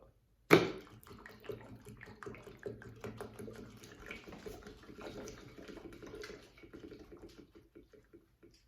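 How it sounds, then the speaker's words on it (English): Water runs steadily into an O-Cedar Easy Wring spin mop bucket, a continuous splashing fill that starts abruptly and carries on close and moderately loud, with faint handling knocks. "So you'll be able to hear and see this filling up."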